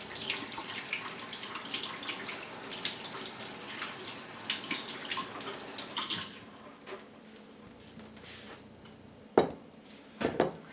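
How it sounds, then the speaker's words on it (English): Tap water running steadily into a sink while hands are washed, a continuous hiss and splash that stops partway through, followed by a few clunks and knocks of items being handled. "let me wash my hand"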